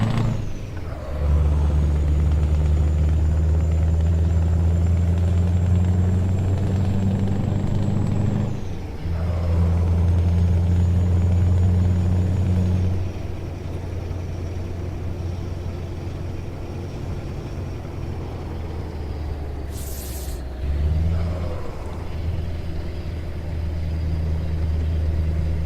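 Scania truck engine in Euro Truck Simulator 2, a loud low diesel drone that rises and drops through gear changes, with a sharp air-brake hiss partway through, steady and close without speech.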